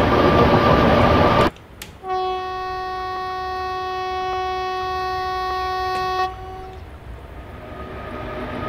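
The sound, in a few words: WAG 7 locomotive hauling ICF train through hills, from Train Simulator video game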